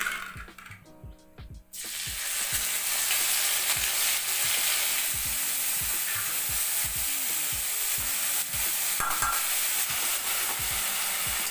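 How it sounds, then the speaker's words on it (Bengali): Dried fish frying in hot oil, a steady loud sizzle that starts after a brief quieter moment and continues with repeated scraping and clinking as a spoon stirs the pan, up close. "এই মাছগুলোকে এখন এই তেলে ভাজতে হবে।"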